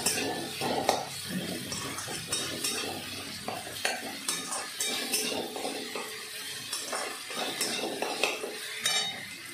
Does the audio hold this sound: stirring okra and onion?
yes